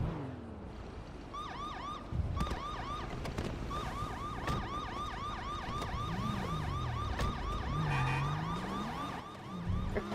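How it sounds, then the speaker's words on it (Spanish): Wailing emergency-vehicle siren in a roleplay video game, a repeated rising and falling electronic whoop that starts after a moment and carries on steadily over a low engine rumble, loud and close, with no talk. "al sonido de la sirena nos vamos"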